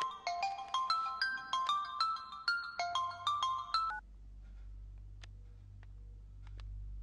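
A phone ringtone plays a bright, repeating electronic melody for about four seconds and then cuts off, leaving a quiet room with a few faint clicks.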